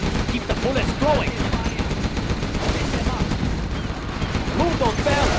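Rapid, dense bursts of machine-gun and rifle fire crackle through a Command & Conquer Generals battle, with sustained overlapping volleys and occasional heavier blasts, and a unit voice heard faintly amid the shooting.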